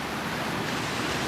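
Sea water at Dawlish Warren in Devon washes over wooden groynes in a continuous broad rush of surf and spray, close and steady with no pauses or voices.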